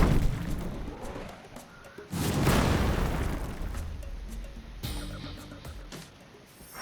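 A heavy booming blast erupts, followed by rumbling decay and another sharp burst later, with scattered crackles; loud and close.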